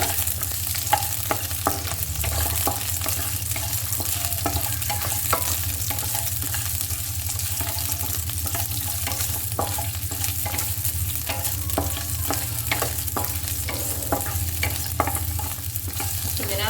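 Garlic and onion sautéing in a pan, a continuous even sizzle with frequent small clicks and scrapes from stirring, close up and steady throughout.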